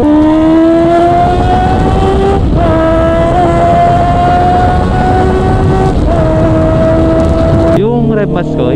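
A Honda CB650R motorcycle engine rises in pitch as it revs, with quick dips at each rev-matched gear change and a sharp drop near the end, loud and close over steady wind rush.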